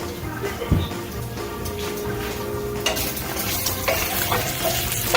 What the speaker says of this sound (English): once this bacon is cooked, we're going to cook it thoroughly, like all the way, get all the fat